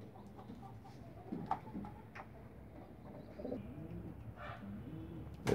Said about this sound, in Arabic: طبعا هو الحمام معطشينه من امبارح، يبدأ يشرب اهو